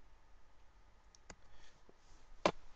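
A computer mouse gives a couple of sharp, isolated clicks while opening the CamStudio screen-recording program. The clicks are close and fairly quiet, with a faint room hiss between them.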